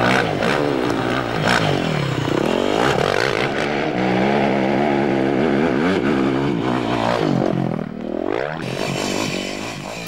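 A production enduro motorcycle ridden off-road, its engine revving up and down in rising and falling sweeps, loud and close throughout with no talk.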